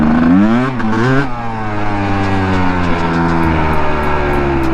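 A Kawasaki KDX dirt bike engine revs hard and close, its pitch sweeping up and falling in one sustained, loud roar with rising harmonics, a brief spoken word near the start.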